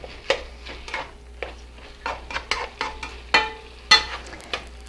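Ground meat browns in a pan over medium-high heat while a utensil scrapes and stirs it in a series of sharp, irregular strokes over a low sizzle.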